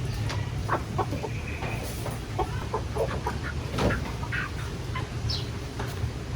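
Farm chickens cluck and call in scattered short bursts, moderately close, over a steady low background rumble.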